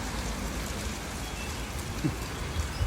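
Steady rain falls on surfaces around an evening dinner outdoors in Fang, Thailand, a dense, even hiss with a few heavier drops, close and continuous, with no voices.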